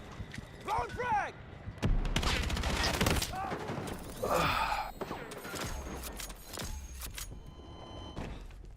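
Battlefield 6 combat as a frag grenade is thrown: a heavy thump and dense bursts of rapid gunfire and explosions, loud and close, with a voice talking over the action.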